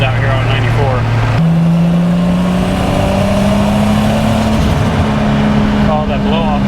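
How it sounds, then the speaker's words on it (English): Modified Nissan S14 with a swapped 2JZ engine cruising back roads, its loud engine and exhaust droning steadily and rising in pitch under acceleration, with people talking inside the car over the noise. "The engine and the exhaust is so loud"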